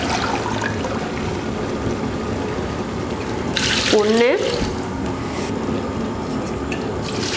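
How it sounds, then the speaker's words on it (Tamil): Water pours steadily from a container into a pot of rice and masala for chicken biryani cooked for forty people, a continuous liquid rush with a brief gurgling splash midway, while a voice speaks briefly. "இப்போ இதில் தண்ணி சேர்த்துக்கலாம்."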